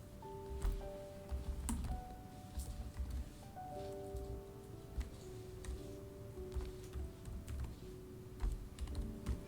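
Steady clicking of computer keys as a file path is typed during a Spark and Scala coding session, a continuous close tapping rhythm over a faint background hum.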